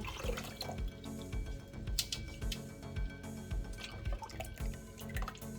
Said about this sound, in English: pour in my ogi like so